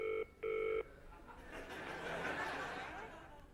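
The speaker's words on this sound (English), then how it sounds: "And the phone is ringing now" A telephone gives two short electronic ring bursts, heard close and clear. A broad noisy wash follows, like studio audience laughter, during a 1992 British TV light entertainment show.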